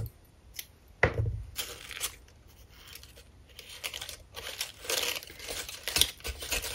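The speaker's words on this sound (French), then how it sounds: "on enlève la petite pellicule" Backing film being peeled off double-sided tape for a Christmas decoration, with close, crinkly tearing and rustling in several short bursts and a few light knocks.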